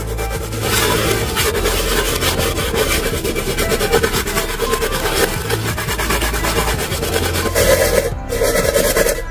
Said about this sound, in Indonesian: kita amplas atau kita gesek-gesek dengan menggunakan sabut tembaga ini